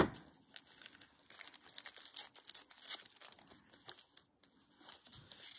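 A handmade sample card layered with lace and fabric gets trimmed to size, giving close crisp snips and papery crinkling in a quick uneven run, with a brief pause near the end and no talking.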